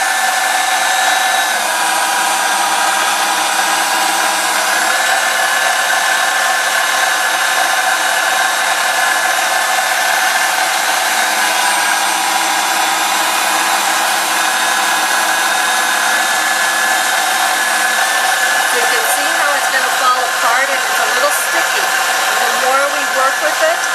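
An electric pasta machine kneads homemade spinach pasta dough, a steady, loud motor whine with a constant hum that holds for the whole stretch, close up and without pause.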